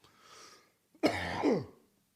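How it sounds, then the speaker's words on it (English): A single harsh cough close to the microphone, a short throaty burst followed by a rough trailing rasp, after a faint breath. "Never, ever are you supposed to cough."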